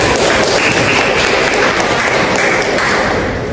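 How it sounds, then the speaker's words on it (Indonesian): A classroom of students applauds a presenting group, a dense, loud, steady wash of close hand clapping that carries on evenly throughout. "Tepuk tangan untuk kelompok 1."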